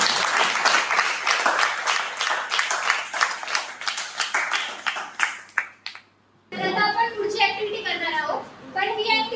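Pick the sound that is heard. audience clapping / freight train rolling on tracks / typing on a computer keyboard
audience clapping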